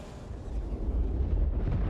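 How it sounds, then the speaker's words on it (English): A large explosion in the space game Star Citizen, heard as a loud, sustained low rumble that swells and holds for about two seconds, with no voices over it. "And the explosion itself."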